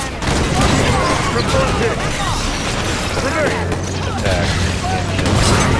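Missiles exploding in the Halo 5 video game, a continuous rumbling barrage of blasts and crashes with battle noise, while a voice speaks briefly.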